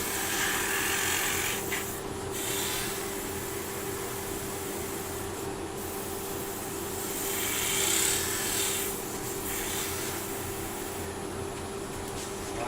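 Rippled sycamore sanded with 400 grit paper on a spinning wood lathe, a steady soft rasping hiss over the constant motor hum, with no talking.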